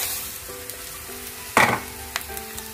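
Rice tipped into a pan of frying prawn pilau gives a sudden loud pouring rush, then a few light stirring clicks over a faint low sizzle and hum.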